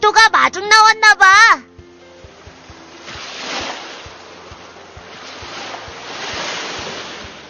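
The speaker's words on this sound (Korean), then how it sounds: "파도가 마중 나왔나 봐." Ocean waves with wind, gentle surging swells rising and falling steadily after a brief burst of singing, alongside a faint regular ticking.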